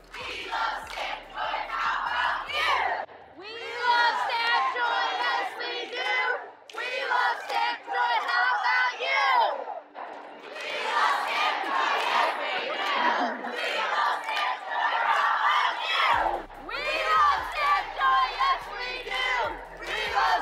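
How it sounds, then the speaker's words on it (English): A crowd at the Stamp Joy event chanting and cheering together in rhythmic bursts of shouted voices, loud and close, with short pauses between rounds and a steady beat underneath at times. "The cheer went on for a little while"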